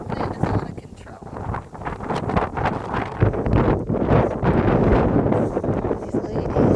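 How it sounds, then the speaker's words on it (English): Strong prairie wind gusts hard and roars steadily across the microphone in an open backyard with chickens, buffeting loudly throughout with brief lulls, while a voice talks faintly underneath. "this wind is out of control."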